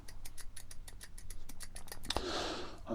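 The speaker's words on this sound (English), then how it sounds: "the only noise I'm getting from this is where the mechanism is moving up and down" A run of small, sharp mechanical clicks from a Notus kit pen mechanism moving up and down, in a quick, even rhythm, close up, followed by a short soft scraping rustle.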